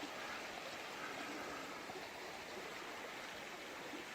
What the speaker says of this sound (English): It's hard to hear anything with that creek